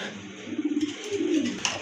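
Pigeons coo in low, throaty, wavering calls, two bursts close by, rising and falling with a soft background hum.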